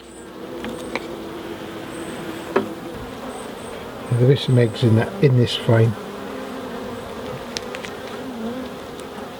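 A continuous close buzzing of honeybees fills the clip, while a person speaks briefly over it in a series of short bursts.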